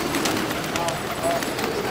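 Pigeons coo softly in a loft as people talk over them, with steady background rustling throughout.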